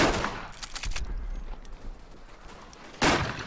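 Gunfire in the First World War shooter game Verdun: a dense cluster of sharp shots at the start, a few scattered reports in the middle, then one loud close blast near the end, with no talking.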